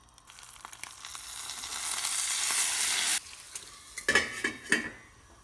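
Loud sizzling from an egg frying in a pan gives a steady hiss that builds and then cuts off, followed by several clattering pan and utensil knocks.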